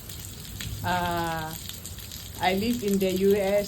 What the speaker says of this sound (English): The rain just decided to come today around 1 o'clock p.m. here in Arizona City